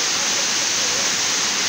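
Rushing water of a cascading waterfall in southern Brazil, a steady loud broadband roar filling the whole moment without pause, heard up close with no voices.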